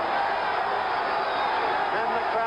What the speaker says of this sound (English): there will be an ovation for these two fighters as the fight ends